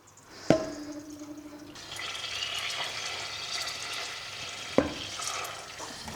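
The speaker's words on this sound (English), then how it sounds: "So let's start searing the meat." Beef seared in a hot pan for Belgian beef stew: a sharp clunk as meat hits the pan, then a steady, close hissing sizzle with another knock partway through.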